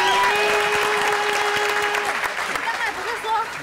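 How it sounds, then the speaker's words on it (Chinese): Applause from a crowd at an outdoor celebrity water sports event in Taipei, bursting out loud and close. It carries on steadily with cheering, and people talk over it. "掌声！"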